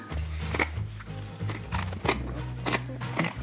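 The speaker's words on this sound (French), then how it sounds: "vous l'entendez tellement ça croustille bien" Crisp, close crunching of homemade cornflakes being chewed, a series of sharp crackly bites repeating irregularly every half second or so, with no talking.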